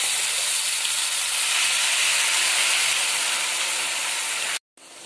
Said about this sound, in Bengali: এবারে এর মধ্যে আমি দিয়ে নেব যে আমি বেটে রেখেছিলাম বিটটা, সেটা দিয়ে নেব। দিয়ে নিয়ে কষে শুকনো শুকনো করব।